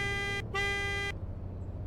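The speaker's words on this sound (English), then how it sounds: "This one has a different horn too." A car horn in the video game Greenville sounds two steady electronic blasts, a short one then a longer one after a brief gap, loud and clear with no talk.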